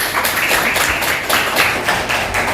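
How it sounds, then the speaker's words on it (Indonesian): A class of students breaks into steady, rhythmic hand clapping, close and lively, forming a continuous pattering applause with no talking over it. "Bagus, tepuk tangan."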